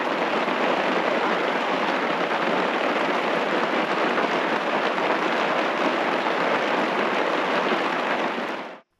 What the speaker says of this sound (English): as the rain moved in